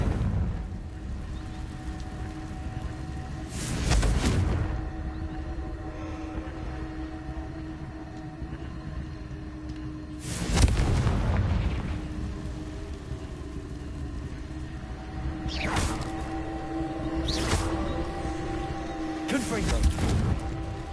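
Confringo blasting spell explosions in Hogwarts Legacy: several sharp, loud bursts spaced a few seconds apart over a low rumbling game ambience, each a quick blast with a short crackling tail.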